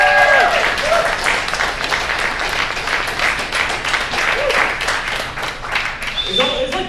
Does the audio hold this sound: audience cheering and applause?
yes